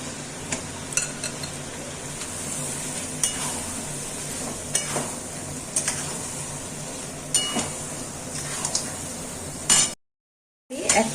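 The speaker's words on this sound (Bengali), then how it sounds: "এখন আমি মাংসগুলোকে এর মধ্যে দিয়ে দিচ্ছি, দিয়ে আমি আরো একটু কষিয়ে নিচ্ছি" Mutton sizzles and fries in a spiced masala in a pan while a spoon stirs it, scraping and clinking against the metal at intervals over a steady close hiss, which cuts out briefly near the end.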